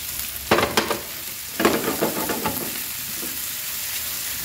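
Sausages sautéing with browned onions in a pan as a filling for Ramadan sambousek, a steady close sizzle broken by two clusters of sharp crackles and spatters as the pan is stirred, no voices.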